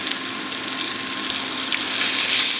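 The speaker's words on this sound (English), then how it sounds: "So we're going to get our onions and garlic in there." Onions and garlic hit a hot pan being deglazed for choucroute garnie, giving a steady, close-up hiss and crackle of frying that grows slightly louder toward the end.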